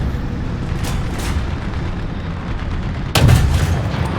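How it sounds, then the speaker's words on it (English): A tank fires a high-explosive round in War Thunder, a single heavy booming blast that cuts sharply through the steady rumble of engine and battle noise. "I didn't hear the Sherman until I'd already fired that HE round."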